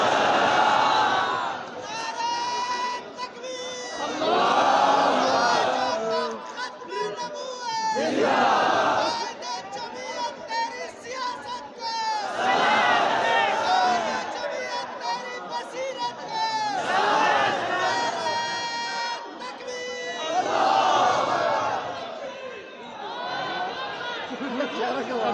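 A large religious gathering crowd roars slogans in repeated surging waves, loud and massed, with overlapping shouts and chatter between the chants.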